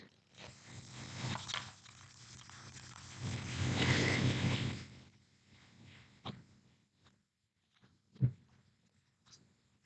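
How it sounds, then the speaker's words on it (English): Papery riffling and shuffling of tarot cards, a long burst of rustling followed by a few soft taps and one sharper slap near the end. "One more shuffle and then we'll pull our card."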